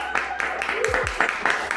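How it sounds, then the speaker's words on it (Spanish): A small group claps in a podcast studio at a Red Cross station, producing steady, moderately close hand claps with regular sharp hits, while voices talk over them. "A ver, un aplauso."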